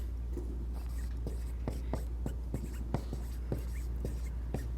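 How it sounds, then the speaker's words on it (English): Pen or marker strokes writing the left-hand side of a hyperbolic-function equation, a steady run of short, sharp taps and scratches at an uneven rhythm over a constant low hum, close and moderately loud, with no talking. "I'm going to write down the left-hand side."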